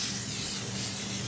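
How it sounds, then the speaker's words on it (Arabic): Cooking oil is sprayed from a bottle onto a non-stick pan before Armenian manti dumplings go in, giving a single brief, steady hiss at close range with no talking. "أحط بخاخ زيت"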